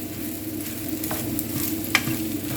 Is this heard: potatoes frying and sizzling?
yes